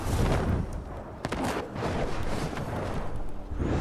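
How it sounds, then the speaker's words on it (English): Machine gun fire in Fortnite rattles out in dense bursts of sharp shots, loud and close, with brief gaps between volleys. "Ooh, machine gun."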